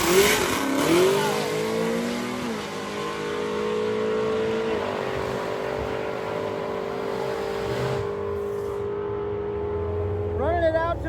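A stick shift drag car makes a pass down the track, its engine revving hard and climbing through gear changes before holding a long steady drone, heard from the starting line area with a voice talking over it.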